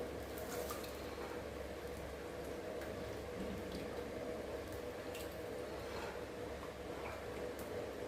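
Rava dosa batter poured onto a hot pan sets off a low, steady bubbling sizzle with faint ticks, soft and close throughout with no talking.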